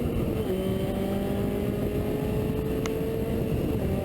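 A Lotus race car engine drones at high revs on the track at CMP, a sustained, steady wound-up tone heard from on board, loud and close with constant road and wind roar and no speech.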